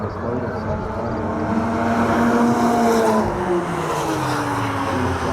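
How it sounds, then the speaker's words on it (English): A Shelby car running on a race track at a driving festival, a loud sustained engine roar with rising and falling pitch as it passes and other cars drone alongside. "that Shelby sounds mean"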